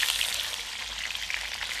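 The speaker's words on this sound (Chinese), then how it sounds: "热油下入鲫鱼，中火煎至一面定型翻面" Two crucian carp, scored with crosswise cuts, fry in hot oil over medium heat in a home kitchen, giving a steady, dense, close sizzle with no talking.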